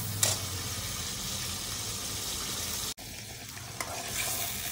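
Gravy sizzling in the same oil in a pan while making cashew paneer, a faint, steady frying hiss that runs throughout, with a brief drop and a couple of soft knocks partway, no voices.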